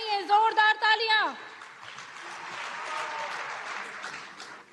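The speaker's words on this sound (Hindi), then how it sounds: "आइए तालियों की गूंज से उनका अभिनंदन करें" At the India Chip Limited groundbreaking ceremony, a voice speaks briefly, then a large crowd breaks into sustained, even applause for Prime Minister Modi that carries on to the end.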